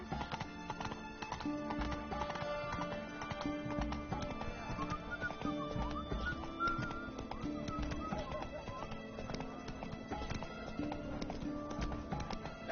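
Roach, a horse in the video game The Witcher 3, gallops in a steady rhythmic clip-clop of hooves over a busy bed of game music, with occasional whinnies and no talk.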